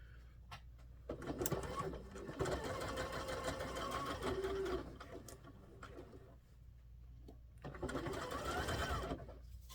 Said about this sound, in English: I'm going to sew till about a 1/2 inch till I get to the border